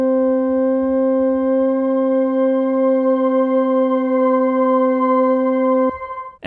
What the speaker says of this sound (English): Shimmer meaning reverberations of our sound an octave above the original layer.